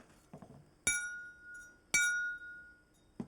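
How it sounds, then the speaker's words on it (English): A copper pipe wind chime hung on copper wire is struck twice, each strike a bright metallic clink with a short ring that dies away quickly, faint knocks before and after, in a quiet setting. "Here's a pipe hung on copper wire."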